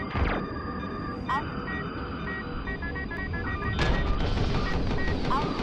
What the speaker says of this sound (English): one of those missiles hit us because it literally got fired right on our butts